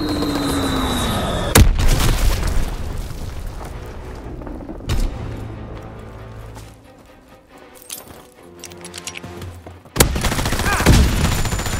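Bombing strike explosions in the Call of Duty: WWII video game hit as sudden loud booms and crackling blasts, separated by quieter stretches of distant rumble and gunfire-like rattles.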